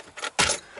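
Keys jangle in two quick bursts, the second louder and close, a brief metallic rattle by a van with no talk.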